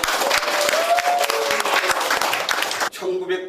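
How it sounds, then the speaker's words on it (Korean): An audience at a Korean knowledge communicator contest applauds as a presenter is welcomed on stage, sustained crowd clapping with a faint tonal hum underneath, cutting off abruptly near the end as a quieter sound takes over. "박수 쳐주세요"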